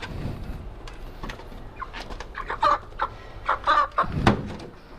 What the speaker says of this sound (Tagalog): May manok dito eh.